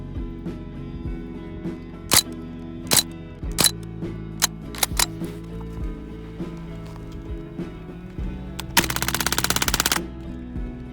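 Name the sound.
Umarex Strike Force BB gun shooting at a computer mouse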